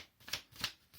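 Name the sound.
thick black paper being handled to cover a box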